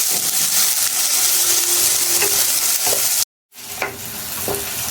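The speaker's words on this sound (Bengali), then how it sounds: "কাটা মরিচগুলো দিয়ে আমি এটাকে হালকা ভেজে নিচ্ছি" Chopped chilies and onions sizzle and crackle steadily in hot oil at close range, with occasional stirring scrapes and a brief cut of silence partway through.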